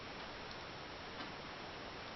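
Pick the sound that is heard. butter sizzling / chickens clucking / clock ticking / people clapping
clock ticking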